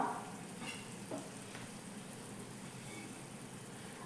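Masala-coated prawns and small onions frying in a pan for a prawn roast, a steady soft sizzle with faint clinks of stirring, quiet and continuous with no talking.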